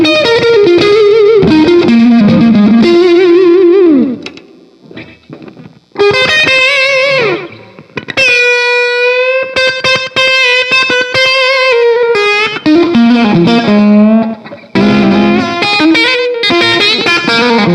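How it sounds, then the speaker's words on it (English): Electric guitar played through Voodoo Lab Sparkle Drive and Carl Martin Hot Drive and Boost overdrive pedals, ringing distorted chords and sustained lead notes rich in overtones, loud and continuous with a brief dip near the middle. "Let's add in a Carl Martin hot drive and boost, just to let you hear how other pedals play with it."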